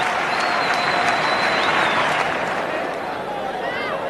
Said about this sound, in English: he acknowledges the cheers from the crowd